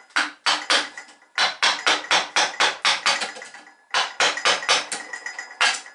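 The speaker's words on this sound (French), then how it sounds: "il est préférable de faire sauter un petit peu avec une gouge ou avec un ciseau" Bamboo slat being worked with a gouge or chisel to knock out the internal node: rapid series of sharp woody knocks in quick bursts, about a dozen strikes per run, close and crisp with short pauses between runs.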